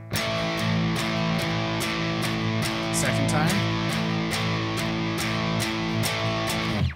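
A distorted electric guitar repeats the same notes in a steady rhythm, thick and sustained, with a brief spoken remark partway through.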